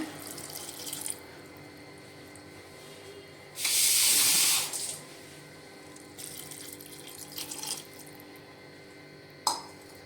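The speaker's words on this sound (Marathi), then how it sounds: "दोन वाट्या पाणी टाकूया" Two cups of water poured into a pot of sautéed vegetables and basmati rice for veg biryani, with one loud, steady gushing pour of about a second amid fainter splashes and drips before and after.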